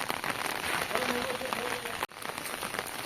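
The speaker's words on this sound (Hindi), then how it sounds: "वर्षा है जोरे" Heavy rain pours down in a village during a storm, a dense continuous hiss of drops hitting surfaces, close and steady, broken by a brief dropout near the two-second mark.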